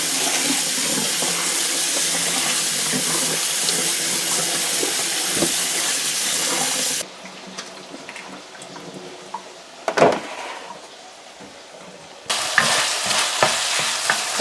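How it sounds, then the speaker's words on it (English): Squash is washed under a running kitchen tap, water gushing loudly into the sink, then cutting off to quieter handling and a short splash before the stream resumes at full strength. "So Molly is going to wash the squash here now"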